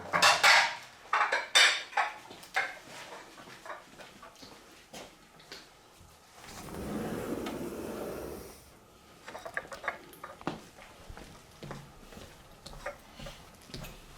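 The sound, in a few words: plates and dishes being carried out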